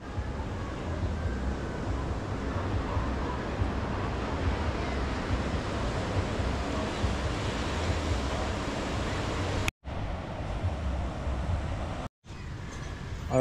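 Ocean waves at the seashore during a beach cleanup, a steady loud rushing wash of surf with wind noise, briefly cut off twice near the end.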